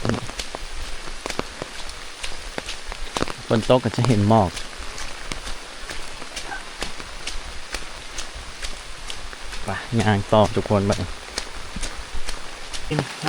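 Rain falls steadily on the forest of Kep National Park in Cambodia, a constant hiss of drops on leaves and surfaces, with a person speaking briefly at two points over it.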